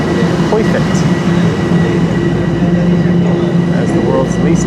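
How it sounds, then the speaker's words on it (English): Toronto subway train slowly rolling out of a station, a loud steady rumble and drone of wheels and motors with faint squeaks and clicks, close by and continuous. "As the world's least efficient and most poorly run transit system slowly rolls a train out of the station"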